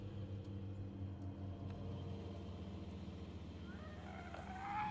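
A car driving close behind gives a steady low engine hum and rumble, faint and continuous, with a rising whine near the end.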